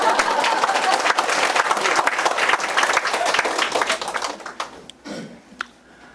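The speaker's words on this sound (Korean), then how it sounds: "박수 치세요." An audience at a lecture applauds loudly in a dense, steady burst of clapping that tapers off into a few scattered claps and faint voices.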